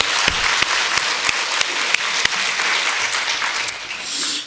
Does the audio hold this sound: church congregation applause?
yes